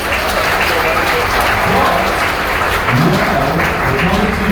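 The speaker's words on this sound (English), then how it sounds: "please give me a big round of applause" Steady, dense applause from a crowd aboard a South Pacific cruise ship, clapping continuously without a break throughout.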